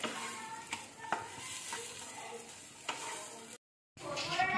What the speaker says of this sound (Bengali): দেখো কতটা ভাজা হয়ে এসছে।